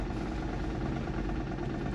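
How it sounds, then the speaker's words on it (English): Engine of a 1983 Toyota Pickup (Hilux) running in a steady, low, even idle rumble, close by and alone, with no talk over it. "That's the engine."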